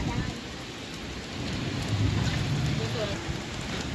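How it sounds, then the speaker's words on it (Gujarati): Rain with hail pours down over a village in Kutiyana taluka, a dense, loud hiss and patter that swells slightly midway, with a low rumble underneath. "વરસાદ અત્યારે આવે છે"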